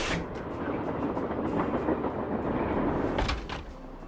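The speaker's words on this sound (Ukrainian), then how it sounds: "Ладно, не забуваємо, що це потяг." A train moves in the Nancy Drew: Last Train to Blue Moon Canyon video game, giving a steady rumbling roll with faint rhythmic clicking of wheels on track, continuous and moderately loud.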